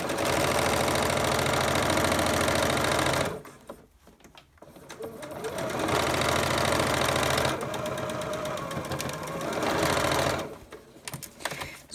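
A sewing machine stitches a fabric butterfly wing for a tactile sewing kit, whirring in fast, loud, steady runs that stop briefly and restart, with short pauses of quieter handling noise between bursts.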